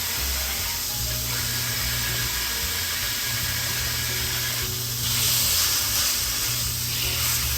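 Ground beef (400 g) fries in a hot oiled pan with minced garlic, pepper and salt, giving a steady, close, crackling sizzle and hiss that grows a little louder partway through. No one speaks.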